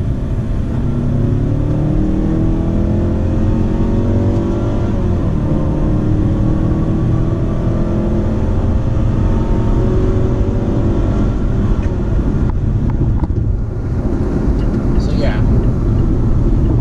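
A 2018 Mazda CX-5 engine revs up steadily, pitch climbing into second gear, loud and close, with a deep throaty growl.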